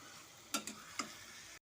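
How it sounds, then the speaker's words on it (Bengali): Chicken with salt and spices frying in a pan for a Bengali chicken bhuna, a soft steady sizzle broken by three quick scraping stirs of a spoon near the middle. "ভালো মতো করে লবণের সাথে মশলার সাথে ভালো করে চিকেনটাকে কষিয়ে নেব।"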